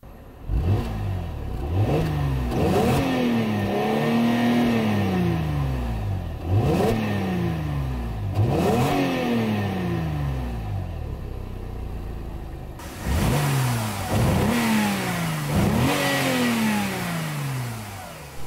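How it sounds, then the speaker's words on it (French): A Mercedes R350's M272 V6 engine revs up hard several times in a row, rising and falling in pitch with a deep, rough growl, loud and close. "La sonorité de ces V6 génération M272 rend donc hommage à leurs prédécesseurs."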